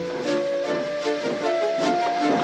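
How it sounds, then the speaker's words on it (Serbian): Steam hisses steadily from a cartoon tank engine stopped near a siding, a breathy wash with faint whistling tones pulsing every half second or so, heard alone without talk. "Otkačili Eni i Clarabel i odvezli Tomasa, koji je i dalje šištao na sporedni kolosek."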